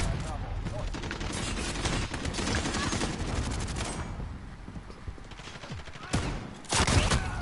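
Gunfire in Call of Duty Modern Warfare, played on PS4: dense, loud bursts of rapid automatic fire that run almost continuously, with heavier single shots near the end.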